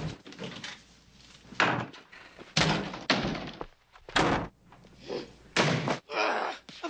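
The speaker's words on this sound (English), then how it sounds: "The slamming doors was something that we had to rebuild the doors every season because I would slam them so hard" Doors on a set are slammed hard again and again, each one a loud, sharp bang with short gaps between.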